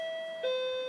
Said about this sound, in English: God, that doorbell.